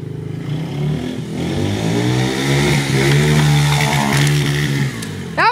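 A dirt bike revs up and accelerates toward a jump ramp with a landing pad, its engine rising and holding a loud, buzzing whine before a brief sharp burst at the end; no talking.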